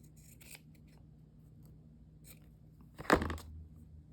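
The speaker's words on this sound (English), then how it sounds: "I'm going to cut this little seam part off" Scissors cut a small seam off a piece of fabric in a single crisp, close snip that stands out after a quiet stretch of faint handling sounds.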